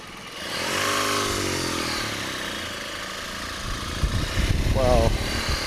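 A 2013 BMW R1200GS TE motorcycle engine idles with a steady low rumble, close by, growing busier and rougher toward the end; a voice talks over it at times.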